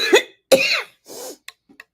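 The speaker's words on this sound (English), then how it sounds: "Oh, sorry, I had to cough." A person coughs several times in short, harsh bursts, close to the microphone, followed by a few faint throat-clearing sounds in an otherwise quiet room.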